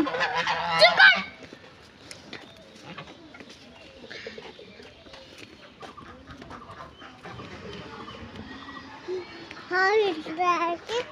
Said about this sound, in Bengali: এই যে এদিক দিয়ে আরো সুন্দর হাঁস দেখা যাবে